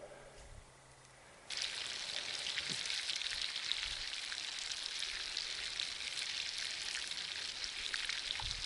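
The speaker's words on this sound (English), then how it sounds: "Can't beat the sound of sizzling burgers and sausages," Steady, bright sizzling of burgers and sausages frying in a pan at a wild camp on the Eglwyseg Escarpment near Llangollen, starting abruptly after a quiet moment and continuing loudly with scattered pops and crackles.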